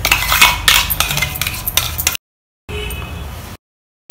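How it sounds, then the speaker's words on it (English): Milk cooking in a pot with cashew and almond paste, stirred with a metal spoon giving rhythmic scraping and light clinks, broken by two silent gaps. "Keep stirring it from time to time and continue cooking it for another 5 minutes more."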